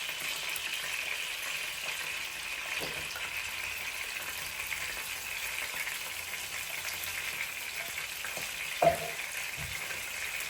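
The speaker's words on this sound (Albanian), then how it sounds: "Tek vaji shtoj 2 qepë të bëra në blender." Two blender-ground onions frying in hot oil, a soft, steady sizzle with occasional faint stirring scrapes and one brief clink near the end, heard alone without talking.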